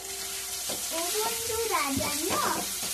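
A tomato dropped into spices, green chilli paste, cumin, coriander, salt and turmeric sizzling in a pan, giving a steady, moderately loud frying hiss with someone talking over it.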